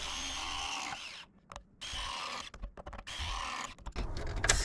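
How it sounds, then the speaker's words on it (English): RIDGID ProPress tool crimping copper fittings, a nearby motorized whir running in long stretches broken by brief pauses and a closing burst, with no voices. "I'm pressing with the rigid ProPress tool"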